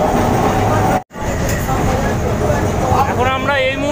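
A Kolkata tram on route 24 toward Ballygunge rumbles steadily along its rails in a loud, continuous rolling drone with a brief drop midway, while a voice talks over it.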